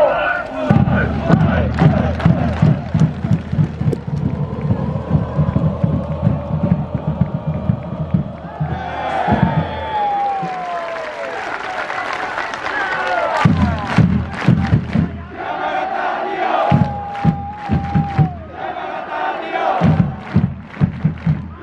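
A stadium crowd at a J.League soccer match between Montedio Yamagata and Fujieda MYFC claps, chants and cheers loudly. The roar is dense and continuous, with sharp rhythmic claps and shouts, and a voice speaks over a public address system.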